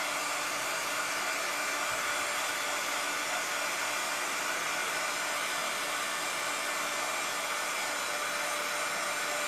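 A hair dryer blows steadily on a gift box made of cold porcelain, giving a loud continuous whooshing hum with no break and no voices.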